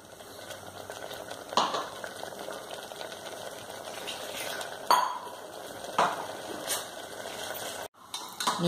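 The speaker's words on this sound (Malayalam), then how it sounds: "ഇത് കറിയൊന്ന് തിളക്കട്ടെ." Green gram curry with ground coconut and cumin simmering in a pot, a faint low bubbling hiss broken by a few sharp metallic clinks and taps.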